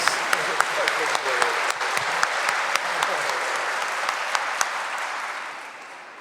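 A church congregation applauds during a live Mass, with steady, dense clapping and a few sharper claps standing out before it tapers off slightly at the end.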